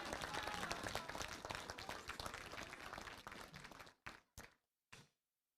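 An audience applauds at an outdoor New Year's wishes ceremony held by a mayor, a dense crowd clapping that gradually thins and ends with a few last isolated claps.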